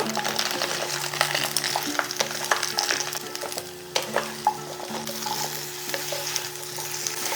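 Mixed vegetables with ash gourd fry over a high flame, a dense continuous sizzle with repeated scraping stirs and a few light clinks of utensil on pan, alone without talk.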